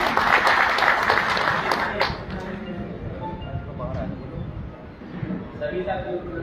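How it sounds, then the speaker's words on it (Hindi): Applause from a seated audience at a Karnal conference of contract workers, loud at first and then settling into a steady patter, with voices murmuring underneath. "डॉक्टर साहब का एक बार जोरदार तालियों से स्वागत है।"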